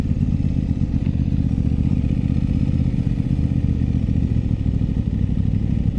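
An Aprilia RS 660 sport motorcycle engine under way, a steady, loud low drone with faint mechanical clatter running throughout, heard from the rider's position with no speech.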